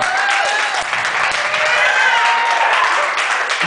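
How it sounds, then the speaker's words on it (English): Wedding guests applauding the groomsmen during a best man's speech, a dense, loud, sustained clapping from a whole room with a few faint voices and whoops mixed in. "Please give them a round of applause."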